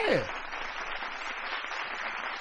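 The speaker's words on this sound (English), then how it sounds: "Can you give me an applause for the Hoover Bucks?" An audience applauds the Hoover Bucks, a high school basketball team, during a playoffs podcast. The clapping is dense, steady and fairly loud, holding evenly for a couple of seconds.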